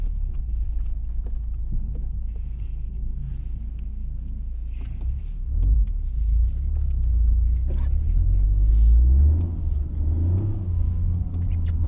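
A Toyota GR Corolla on a winter tire setup drives through snow and ice, its engine rumbling low and steady with a few throttle swells and revs partway through, heard from inside the car with no talking.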